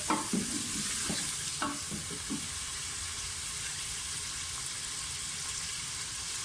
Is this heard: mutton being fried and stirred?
yes